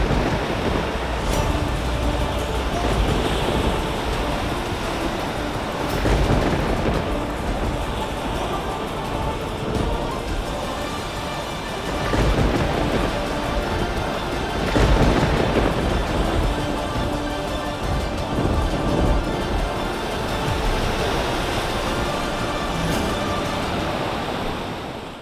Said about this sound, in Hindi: बहुत ही भयंकर तूफान आ रहा है।